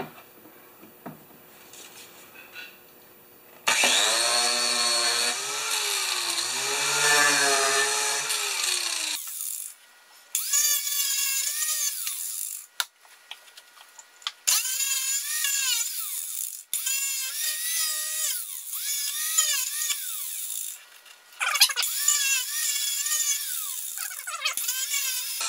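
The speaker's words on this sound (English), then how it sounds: "This grinder's getting old, eh?" An old angle grinder runs in several loud, close bursts, whining as it spins up and winds down between pauses, with quieter gaps separating the runs.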